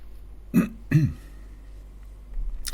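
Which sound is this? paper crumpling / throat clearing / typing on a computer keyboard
throat clearing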